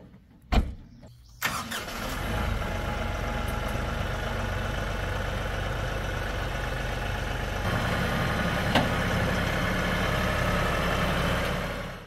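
A Kioti NS6010 HST cab tractor's engine cranks over and catches after a couple of short bursts, then settles into a steady, close idle with a constant low rumble that runs to the end.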